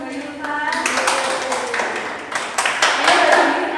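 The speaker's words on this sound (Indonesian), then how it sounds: "Beri tepuk tangan untuk Mbak Yulfa." Students in a microteaching classroom break into a short round of hand clapping, a cluster of sharp claps that builds over a few seconds, with voices talking through it.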